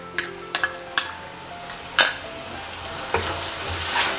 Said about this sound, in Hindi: अब मैं डाल देंगे जिंजर गार्लिक के पेस्ट, अब मैं डाल देंगे ग्रेट किए हुए टमाटर,